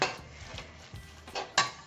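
Coconut and milk powder mixture for coconut ladoo being stirred in a pan over a low flame, a few quiet scrapes and light utensil taps close by.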